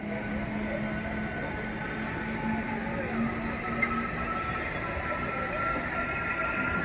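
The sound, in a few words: South Eastern Railway train departing, Kharagpur division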